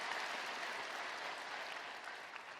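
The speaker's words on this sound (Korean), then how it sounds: "우리 배단위 찬양대에게 뜨거운 감사의 박수 한번 주시기를 바랍니다" A church congregation at a Sunday service applauds its choir, a broad, even wash of clapping that holds steady and fades slightly toward the end, with no voices over it.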